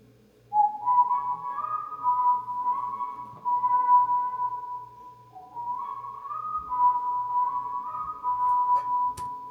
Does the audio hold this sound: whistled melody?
yes